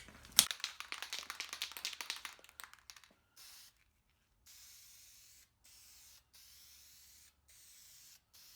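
A spray can of Duplicolor 2-in-1 filler primer coats a 1965 Austin-Healey 3000 up close, starting with a loud hissing spray and rattling bursts, followed by several shorter, fainter hissing passes separated by pauses.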